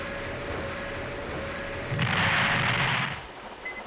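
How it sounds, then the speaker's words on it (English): A burst of explosion from the PS1 game Armored Core: Project Phantasm lasting about a second, loud and rumbling over a steady background hum before fading out. "I did like that explosion sound"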